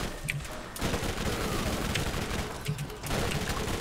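Repeated loud gunshots and blasts in Borderlands fire in two clusters with a short lull between, the heavy weapon shots arcing out in dense, booming volleys with no talking.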